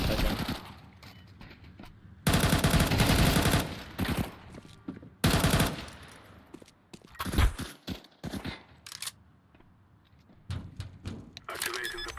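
Bursts of CZ pistol fire in a tactical shooter game, sharp loud cracks in quick clusters separated by quieter stretches, with a voice talking between them.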